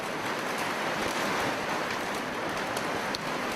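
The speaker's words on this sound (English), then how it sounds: "It's raining cats, dogs, camels, elephants." Heavy rain pours steadily, a dense continuous hiss of drops on surfaces, loud and unbroken throughout.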